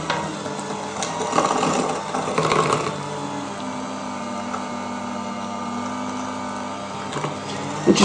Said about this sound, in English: Now I'm going to use my electric mixer. Let's just do it slowly to start with.